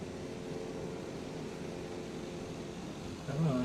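An airplane engine drones steadily while taxiing, a continuous low hum at even loudness that swells slightly near the end.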